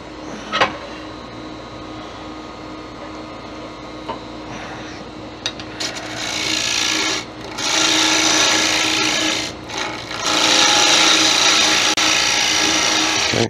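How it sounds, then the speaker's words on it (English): A wood lathe cuts while a turned wooden angel is hollowed out. Scraping and tool chatter build from faint intermittent touches into sustained loud cutting, broken by short pauses, with no talk. "I'm just going to start hollowing out, but I'm going to hollow out very carefully and at speed."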